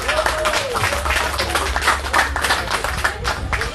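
An audience at a political rally gives a short burst of clapping for a speaker, loud and close with speech mixed in.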